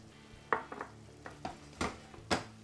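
A spoon stirring sugar into tomato sauce for bolognese in a pan, a few soft scrapes and taps over a faint simmering sizzle, close and quiet, no talking.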